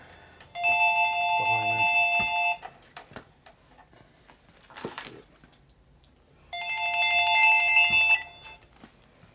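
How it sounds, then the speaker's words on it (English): An electronic telephone ringtone sounds in a workshop during a custom Harley-Davidson FL shovelhead big-bore bike build, two loud trilling bursts separated by a pause, with a brief spoken remark in between. "Where's that phone at?"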